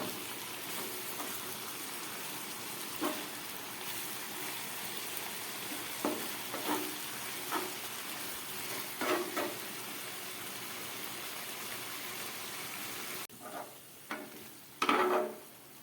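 Spice-coated eggplant frying in a pan: a steady close sizzle with occasional scraping stirs, quieter near the end with a few spatula knocks.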